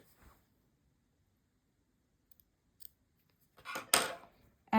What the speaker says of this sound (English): now we can cut off this yarn